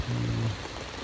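Rain falls steadily at a Buddhist site, a soft continuous hiss of drops on surfaces with a brief low hum near the start.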